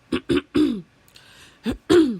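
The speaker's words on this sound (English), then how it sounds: "No corona, I'm just coughing." Several short, rough throat-clearing bursts and coughs, close and fairly loud, with a brief quiet pause between the first group and the last two.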